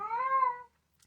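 A house cat gives a single loud, tonal yowl lasting over half a second, close by, then silence with a faint tick.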